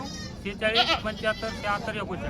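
Several wavering bleats from a nearby goat, a dairy goat at a livestock market, sound in quick succession, close and fairly loud, with background noise around them.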